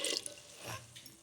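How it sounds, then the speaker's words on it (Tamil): Water poured into a pot of idli sambar holding brinjal, potato, beans and carrot, a short, faint splash and trickle close by. "இப்போ நம்ம தண்ணி சேர்த்துக்கலாம்."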